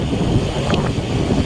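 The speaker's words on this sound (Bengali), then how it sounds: "বাইরে কি সুন্দর ঠান্ডা হাওয়া" Cool wind blows outdoors, a steady rushing gust that buffets the microphone with low rumble, with no voices present.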